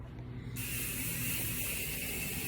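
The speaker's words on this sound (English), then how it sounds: "I'm trying to clean it, so I'm using 409 spray" 409 cleaning spray hisses in one continuous, loud and close blast from a trigger bottle while cleaning a smoke-stained room, with a faint mechanical rumble beneath it.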